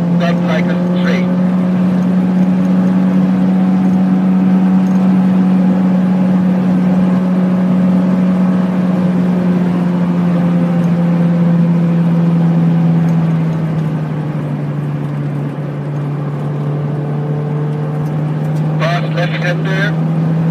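Honda S2000 at speed on the Nurburgring near Schwedenkreuz, a loud sustained engine drone holding high revs, dipping slightly in pitch, heard from inside the car with road and wind noise throughout.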